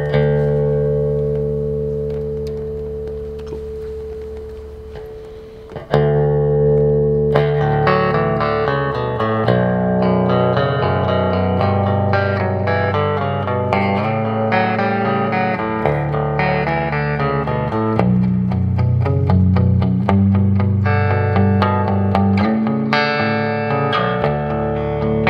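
A late 1950s to early 1960s Danelectro Long Horn baritone bass guitar is played with both pickups together. A single ringing note decays first, then a loud, continuous run of twangy low melodic notes and chords follows, with no talk.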